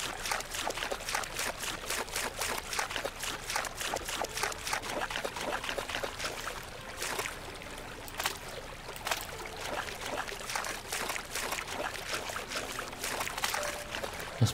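A character wades through water in a video game, making repeated splashing, sloshing steps with a trickling, pouring wash of liquid, fairly soft and steady throughout with no voices.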